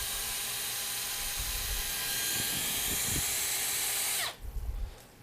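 A power drill bores into an ostrich egg shell, a loud sustained whining grind with bumps of handling, cutting off abruptly near the end.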